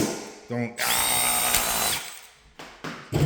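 A power drill driving screws into a ceiling fan mounting bracket, with a loud whining run of nearly a second and a half followed by short bursts and pauses, close up.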